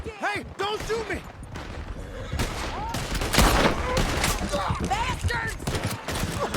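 Gunfire from riders in Red Dead Redemption 2, a dense rapid volley of shots and rattling fire throughout, with shouted voices breaking through the clatter.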